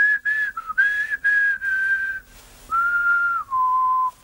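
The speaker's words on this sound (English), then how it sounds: "I sometimes find that whistling does the trick" Someone whistles a simple tune up close, clear sustained notes in short phrases with brief pauses between them.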